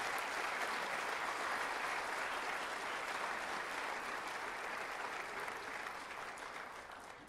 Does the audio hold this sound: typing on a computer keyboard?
no